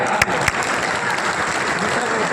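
A crowd at a Jan Suraaj political rally claps in a dense, steady wash throughout, with a couple of sharper individual claps standing out near the start.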